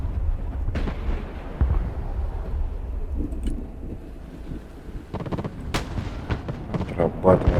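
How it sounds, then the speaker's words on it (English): Artillery fire in the Broken Arrow war game, set in a Baltic campaign, comes as heavy booming blasts over a constant rumbling, windy combat backdrop, with a cluster of sharper reports near the end. "Artillery in combat."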